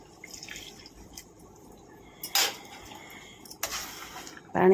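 Water is poured into a curry of malabar spinach and prawns simmering in a pan, heard as a few short splashing bursts over a quiet background.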